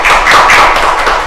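Applause from a lecture audience after a special talk by a former deputy prime minister at a university unification lecture, a dense, continuous patter of many hands clapping at steady loudness, close and filling the room, with no talk over it.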